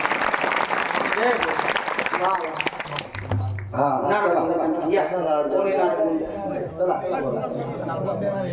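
An audience at a village kirtan gathering in Khamkheda claps to welcome a donor, the applause rising under a voice speaking loudly and then fading as he continues talking.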